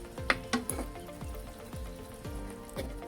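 Mackerel curry simmering in a pan as the fish goes in and is gently stirred, with soft bubbling sizzle and a few light splashes and spoon knocks, quiet and close.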